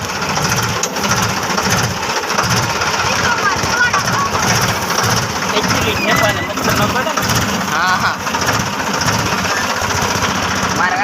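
A loud, close tractor engine running with a steady chugging rumble throughout, voices speaking over it.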